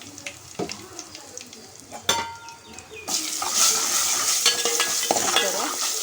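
Curry leaves and asafoetida hit hot oil for a tempering, first a few scrapes and clinks of a pan, then a loud, steady crackling sizzle close up.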